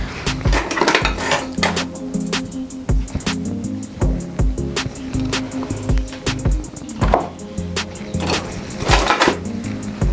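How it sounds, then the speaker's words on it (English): Repeated clunks and scrapes of a utensil mashing potatoes in a metal pot, irregular thumps and clatters in quick succession, close and fairly loud, with no talking. "So you're gonna help mommy mash the potatoes?"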